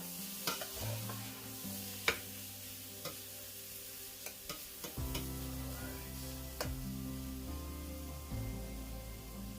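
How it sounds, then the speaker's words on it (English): A spoon scrapes and stirs across the bottom of a pot of Bolognese, close knocks and scuffs over a soft steady sizzle, with low music humming underneath. "Just scrape the bottom of the pot for all those brown sticky bits."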